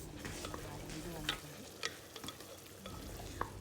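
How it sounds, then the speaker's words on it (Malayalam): Beef cooked Kerala style, stirred and fried until dry in a pan: a steady close sizzle with sharp scraping strokes of the spoon every half second or so, no voices. "നല്ല ബീഫൊക്കെ ഡ്രൈ ആവുന്നത് വരെ വരട്ടിയെടുക്കുക"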